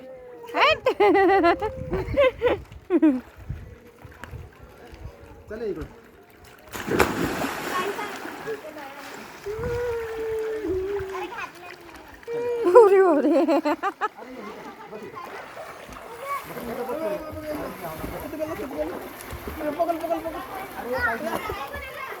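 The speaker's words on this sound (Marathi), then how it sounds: "टाक पाणी टाक पाणी पप्पाच्या अंगावर" Children splash water onto their father outdoors near Koradi, with bursts of splashing among excited children's shouts, chatter and laughter that stay close and lively throughout.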